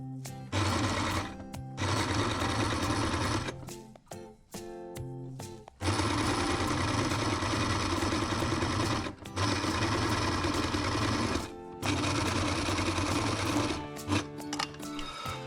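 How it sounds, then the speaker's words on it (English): A sewing machine stitching a tiny hem along a fabric edge, running in long loud continuous bursts with brief pauses between them, close and with no talk. "So now I'm going to sew these edges."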